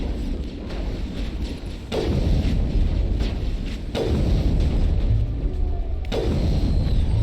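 Gunfire in the Mass Effect video game: a steady rumbling barrage with three heavier booming bursts spaced about two seconds apart, loud and continuous with no talk over it.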